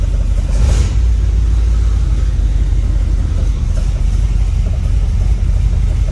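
The engine of a 1938 Chevy car runs as it backs slowly out of a shop, a loud, steady low rumble close by with a slight rev near the start.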